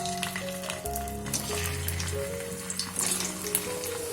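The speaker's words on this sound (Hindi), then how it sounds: "आलू को हमें डीप फ्राई करना है ताकि ये काफी क्रिस्पी हो सके।" Potato pieces deep frying in hot ghee in a kadhai make a steady, loud, close bubbling sizzle that runs throughout, with a few light clinks and shifting tones laid over it and no voices.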